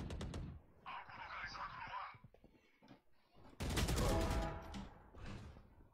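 Gunfire rattles in a shooter video game, short bursts of rapid shots near the start and a louder sustained volley midway, with people talking between the shots.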